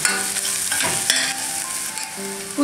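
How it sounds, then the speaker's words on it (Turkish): A spoon scraping and stirring through a salted, thyme-seasoned sauce in a pan for soup, with faint sizzling underneath and brief tonal clinks, close up. "Ve karıştırıyorum."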